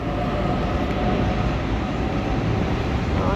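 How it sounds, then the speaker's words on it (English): A train rumbles past close by near Circular Quay, Sydney Harbour, a dense, steady roar of wheels and rail noise filling the whole stretch without pause. "Oh, there's a train in there."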